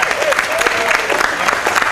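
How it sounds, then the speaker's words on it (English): Loud, close applause from a crowd at a trail development ribbon cutting ceremony, dense clapping that holds steady throughout with a few scattered voices mixed in. "Give her a round of applause."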